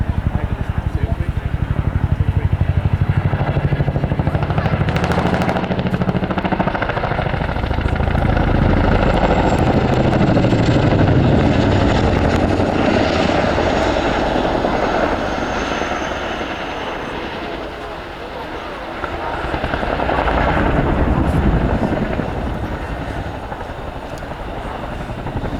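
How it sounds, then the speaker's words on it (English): An RAF Boeing Chinook twin-rotor helicopter flies a display at the RAF Waddington Air Show, its heavy rotor thudding and turbine roar rising and falling over about twenty-five seconds while a commentator speaks over it. "It's well known that the Chinook makes an incredible sound while in flight."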